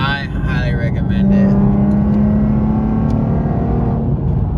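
A Nissan 370Z engine held at high revs, a loud steady drone with a rising tone that holds for several seconds, under a voice.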